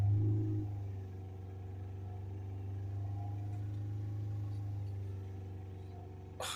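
A Ford Transit Custom 2.2 diesel engine running at raised revs during a DPF service, a steady low rumble held fairly level, close and alone, with a short clunk at the end.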